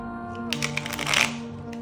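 A brand-new tarot deck is shuffled in a short riffle of crisp card flutter, close and clear over a steady background hum.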